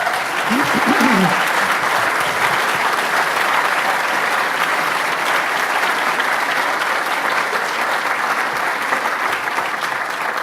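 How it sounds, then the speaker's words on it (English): Warm, sustained audience applause at a civil rights writers and scholars roundtable, steady dense clapping with a brief voice heard near the start. "you should give them a warm round of applause."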